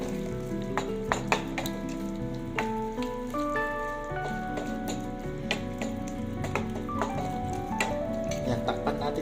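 Chicken with black pepper, for pininyahang manok, stirred in a pan, with a soft steady sizzle and occasional light clicks of the utensil, faint beneath background music.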